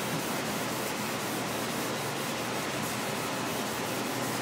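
Steady, close scrubbing hiss of a cloth rubbing a finish into wood for a beer sign, continuous and even throughout with no voices.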